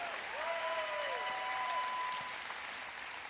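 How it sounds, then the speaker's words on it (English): A conference audience applauds in a steady, even wash of clapping that holds for a few seconds and then tapers slightly, heard from within a large room. "Let's hear a round of applause."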